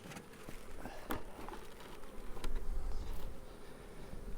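Honey bees hum inside a split hive box, a faint close buzzing swarm that rises and falls, with a few soft knocks and taps.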